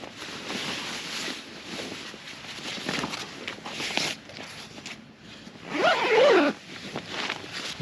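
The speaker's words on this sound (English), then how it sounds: "zip isn't very good, and I've got to be very gentle with it" A bivvy bag zipper is drawn slowly and gently up close in a short rasping pull, with soft rustling of fabric and gear before and after it.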